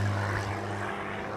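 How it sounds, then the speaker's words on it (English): A propeller airplane drones overhead, its engine a loud, steady low hum with a strong tonal buzz that eases slightly as it passes, heard alone without voices. "So there you have the planes"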